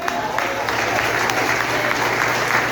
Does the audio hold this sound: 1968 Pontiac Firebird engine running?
no